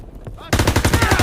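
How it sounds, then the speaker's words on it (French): Machine gun fire in the Call of Duty WW2 video game: a rapid, loud, steady burst of shots begins after a short quiet lead-in and continues to the end. "Que quelqu'un prenne la mitrailleuse."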